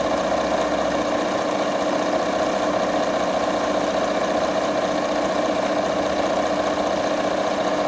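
A Bernina sewing machine stitching across fabric, giving a steady, fast mechanical hum and whir at even speed, close and continuous with no talk.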